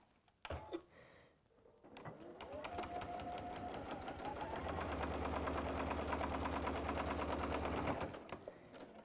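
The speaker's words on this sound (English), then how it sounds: "Let's simply sew down there and off we go." A sewing machine stitches a fabric seam: a few clicks, then a steady, close whirring run of several seconds that stops abruptly.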